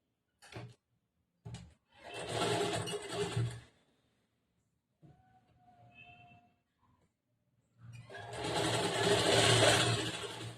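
A sewing machine stitches along a blouse edge in two bursts of rapid mechanical chatter, one of under two seconds and a longer one near the end, close and clear. A few short clicks and quiet handling sounds fall between the bursts.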